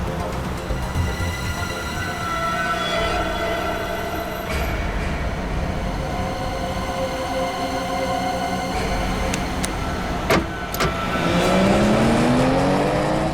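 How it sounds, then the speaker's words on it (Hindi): A car driven fast on a road gives a continuous loud engine and road roar with shifting whine, building into a rising, sweeping engine pitch toward the end. "स्लो चलाओ गाड़ी"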